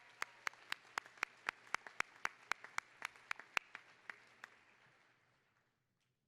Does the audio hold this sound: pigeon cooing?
no